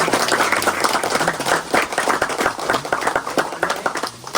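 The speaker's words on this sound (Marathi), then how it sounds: "सर्वांनी ध्वजारोहण होत असताना टाळ्या वाजवून आनंद व्यक्त करावा" A crowd claps steadily and fairly loudly during a flag hoisting at a village Buddhist committee's 135th birth anniversary celebration of Dr. Babasaheb Ambedkar, with many hands producing continuous applause and no voices.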